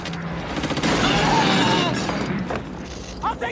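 Gunfire from German fighter planes attacking in a war film, a dense sustained fusillade with booming blasts and rattling bursts filling the scene, loud and continuous before easing off, with a few sharp impacts near the end.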